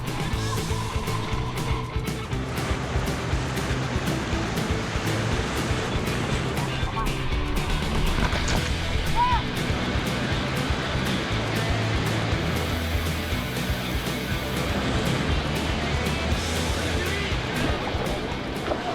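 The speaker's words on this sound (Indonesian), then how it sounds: "Sungai Ciwulan memiliki arus yang masuk kategori grade 3, sehingga tetap aman untuk diarungi." Grade 3 whitewater rapids on the Ciwulan River churn in a loud, continuous rush of turbulent water, broadband and steady throughout, with people's voices faintly mixed in under the roar.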